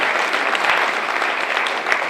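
Loud, steady audience applause from a crowd honoring the Gujarat Sahitya Akademi at the Banas literature festival in Palanpur, a dense continuous patter of clapping lasting about two seconds with no pause.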